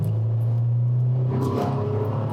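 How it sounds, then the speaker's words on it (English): The engine of a 2019 Toyota 4Runner TRD Pro, a body-on-frame SUV, revs with a steady loud rumble from inside the cabin, then its pitch rises and strains briefly before easing off. "Wow, that engine really doesn't like to rev."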